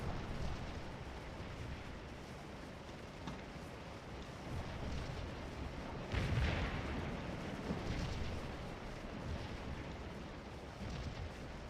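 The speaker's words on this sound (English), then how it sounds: "We got cannons up now." Cannon and artillery fire from a Scourge of War battle, low rumbling booms rolling under a steady dense din, with one heavier blast standing out near the middle.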